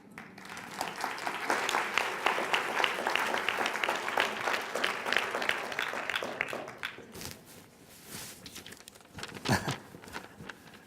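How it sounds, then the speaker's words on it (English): An audience applauds after a talk on implicit bias, a moderately distant wash of clapping that holds for several seconds, then thins into a few scattered claps and quieter gaps. "Let's give him one more round of applause."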